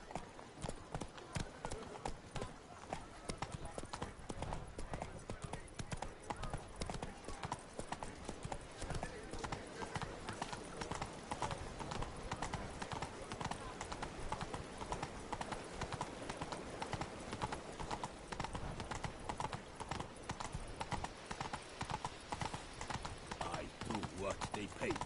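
Hoofbeats of Geralt's horse Roach in The Witcher 3: Blood and Wine, a steady rapid clip-clop of galloping hooves throughout, with a voice talking over it.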